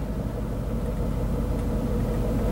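A manual-transmission car engine idling low as the clutch is released and the revs sag, a steady close rumble with no talking.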